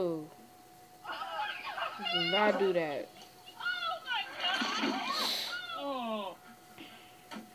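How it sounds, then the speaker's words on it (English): A cat meows in several drawn-out, rising and falling cries, close and fairly loud, mixed with people talking and exclaiming. "What is that, a cat? That's a cat."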